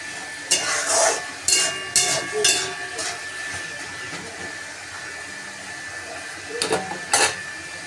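Ash gourd is stir-fried in oil in a pan for a sukto with gondhoraj lemon leaves. Loud, intermittent bursts of spoon scraping come in clusters over a faint, steady sizzle, with a thin tonal hum in the background.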